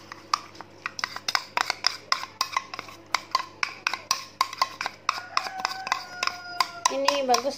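A spoon stirs a baby oil skin mixture in a small container, making rapid, steady clinks against the sides with a faint hum behind them.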